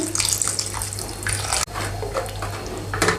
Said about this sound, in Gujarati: આ ગ્રેવીમાં અડધો ગ્લાસ જેટલું પાણી ઉમેરીશું